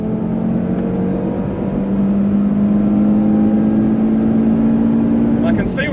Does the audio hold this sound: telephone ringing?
no